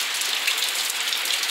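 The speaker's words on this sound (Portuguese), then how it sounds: "recebendo sempre fortes chuvas" Heavy rain pouring at night in Joaquim Gomes, Alagoas, a steady dense hiss of drops on surfaces, loud and continuous with no voices.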